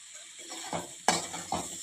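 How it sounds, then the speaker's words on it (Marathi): A vegetable with finely chopped coriander is stir-fried in a pan: three distinct spatula scrapes and knocks over a soft sizzle, close up and without talk. "कोथंबीर घालून चांगलं परतून घेऊया"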